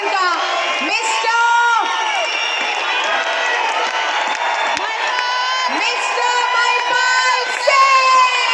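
A large crowd cheers, whoops and shouts for a royal ambassador's entrance at a live event, a dense, loud, sustained roar with high voices and some clapping throughout.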